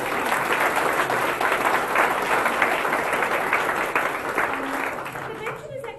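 Applause from a hack day audience cheering on a mobile app design team, a dense steady patter of many hands clapping close by for several seconds, thinning toward the end with faint talk underneath.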